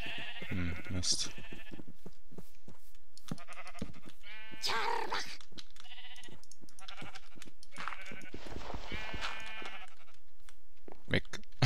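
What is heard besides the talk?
sheep bleating in Minecraft Pixelmon video game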